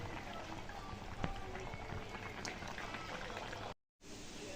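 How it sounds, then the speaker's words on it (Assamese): Fish with ridge gourd and tomato simmers in a pot, giving a steady close bubbling and crackle that runs throughout and drops out briefly near the end. "মোৰ জিকা বিলাহী মাছ ধুনীয়াকৈ উতলি আছে"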